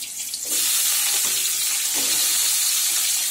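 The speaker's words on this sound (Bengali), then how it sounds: "এই দেখো লম্বা লম্বা করে কাটা আলুগুলো দিয়ে দিচ্ছি" Long-cut potato strips drop into a hot pan and immediately break into a loud, steady sizzle of frying that holds at full strength, with no talking.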